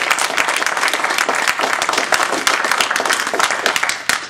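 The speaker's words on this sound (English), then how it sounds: "Let's give ourselves a round of applause for that." Round of applause from the audience at a speech evaluation contest, a continuous, dense wash of many hands clapping in a hall, loud and even throughout before fading slightly at the close.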